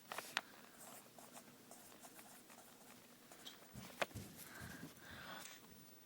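Pen or pencil scratching out a math problem by hand on paper, soft continuous scribbling strokes with a few sharper taps, close and fairly faint, no talking.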